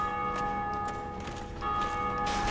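A church bell in Dark Souls rings in a sustained metallic tone with lingering overtones, heard alone over low game ambience and fading slightly before swelling again.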